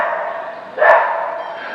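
A single loud dog bark, close by, standing out from a steady background hum.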